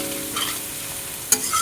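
Tomato and garlic paste fry with onions in a pan for a short stretch, a steady close sizzle with one brief sharp clink of the spoon.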